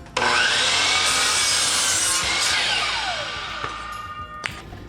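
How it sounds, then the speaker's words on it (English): A miter saw cuts a 45-degree angle through wood, giving a loud, steady whining cut that starts abruptly and then tapers as the blade spins down. "So using my miter saw, gets my 45-degree angle there. We'll chop this end off."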